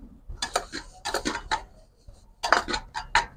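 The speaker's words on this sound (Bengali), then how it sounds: "এই থালার মধ্যে কিছুটা আগে আমি রিফাইন তেল দিয়ে এটাকে একটু ব্রাশ করে নেব" A brush spreading refined oil over a perforated metal plate makes close, crisp scraping and light metallic clinking strokes, coming in short rhythmic groups with brief pauses between them.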